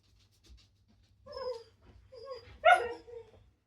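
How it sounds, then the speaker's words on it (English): Pet dog whimpering and making small whiny yips with some panting in a quiet room, a few short bursts that rise to a sharper cry near the end, close by with no speech. "Sorry, my dog."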